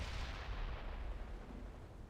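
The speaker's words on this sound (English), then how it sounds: "Keep dropping in artillery strikes on them again because they're free." Artillery strikes in the World in Conflict video game: a continuous low rumble of distant bombardment and booms, steady and heavy, with no voices over it.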